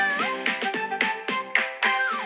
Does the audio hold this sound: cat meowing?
yes